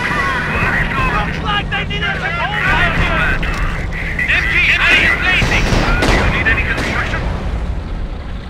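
Machine gun fire chatters in rapid bursts within a busy Company of Heroes battle in North Africa, 1941, layered with engine rumble, distant blasts and soldiers shouting.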